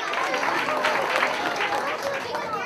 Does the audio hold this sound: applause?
yes